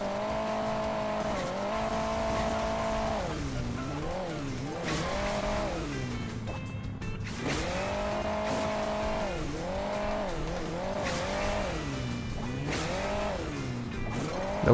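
A motorcycle engine in Hill Climb Racing 2 drones steadily, its pitch rising and dipping in repeated swells as the bike revs and eases off, loud and continuous with no talk.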